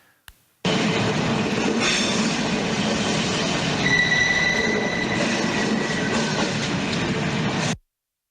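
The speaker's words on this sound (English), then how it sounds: "recording while he was standing at the station in Germany, at a train station" At a train station in Germany, a train rumbles steadily past at close range for several seconds, with squealing wheels and a sustained metallic tone, then cuts off abruptly.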